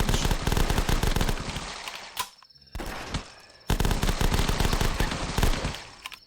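Loud, rapid automatic UMP fire from The Last Stand zombie game, two long rattling bursts split by a short gap and a sharper pistol shot, all close and dense.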